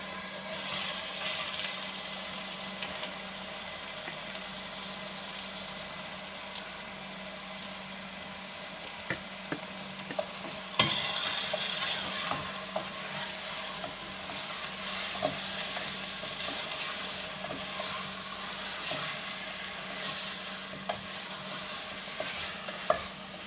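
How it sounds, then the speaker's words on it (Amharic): Chicken frying with garlic in butter, a steady close sizzle with stirring scrapes throughout that swells louder around the midpoint as more goes into the pan, with no talking. "አሁን ዶሯችንን እንጨምራለን ማለት ነው።"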